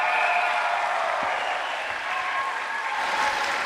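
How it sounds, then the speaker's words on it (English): Spectators at a BMX final in Tallinn clap and cheer as riders are introduced, a broad, continuous wash of crowd noise at steady loudness across the whole stretch. "You keep that noise going and those hands clap together"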